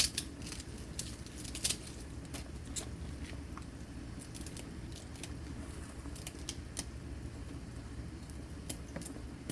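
Cabbage being cut into a soup pot for homemade chicken noodle soup, a dense run of soft crisp slicing crunches with scattered sharper clicks, steady and close.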